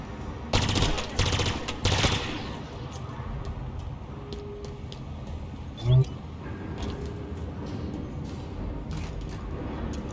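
Rapid gunfire from Halo Infinite's Legendary campaign on the Warship Gbraakon level: dense bursts of shots early on, then a lone sharp report amid a busy battle bed, with voices talking over it.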